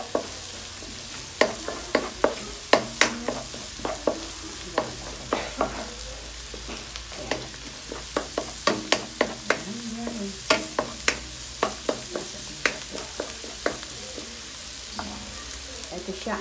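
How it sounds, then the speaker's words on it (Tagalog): Crab frying in a pan with ginger, garlic and onion, sizzling steadily under repeated sharp clatters of stirring and scraping, close and fairly quiet. "Ipa-fry natin siya sa luya, bawang at saka sibuyas."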